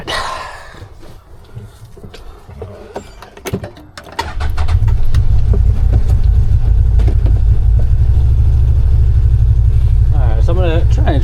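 A CFMoto UForce 1000 side-by-side starts moving, its engine rising after a few seconds into a loud, steady low rumble that holds to the end, with scattered clatter early on and a brief warbling tone near the finish.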